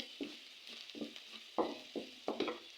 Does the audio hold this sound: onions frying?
yes